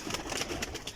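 Pigeons at a loft cooing softly, a few low repeated coos over about a second, close and quiet with no talk.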